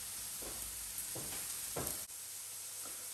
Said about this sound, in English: So our burgers have been cooking for about 5 minutes.